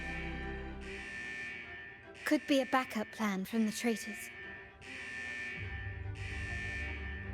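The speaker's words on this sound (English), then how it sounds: "Is that the central alarm of the vault?" A vault's central alarm in a video game blares in steady repeating electronic buzzer tones, cutting out while someone speaks and then resuming loud and continuous.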